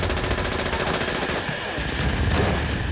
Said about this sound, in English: they were firing down at the Taliban as the Taliban assaulted their home, and they're firing into the darkness